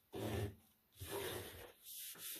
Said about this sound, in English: make sure you burnish to adhere it down